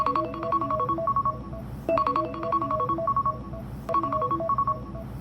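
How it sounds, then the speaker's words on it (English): A smartphone rings with a repeating melodic ringtone triggered by a Tapo D225 video doorbell's ring call feature, playing in three loud, close cycles of about two seconds each. "when somebody rings your doorbell, not only do you get the notification, but your phone will actually ring"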